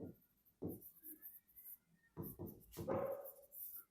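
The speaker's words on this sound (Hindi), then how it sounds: "तो यहां लिखेंगे" Pen writing on paper during a quadratic formula derivation by completing the square, heard as separate short scratchy strokes and taps in small bursts, close and faint.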